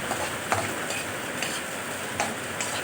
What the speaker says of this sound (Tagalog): Halu-haluin ulit para mag-mix lahat ng rekado.